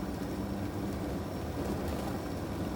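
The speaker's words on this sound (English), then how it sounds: "The engine noise is very quiet." Constant low engine drone with road rumble, steady and unchanging, heard from inside a moving 2008 Four Winds Windsport 32E motorhome without talk.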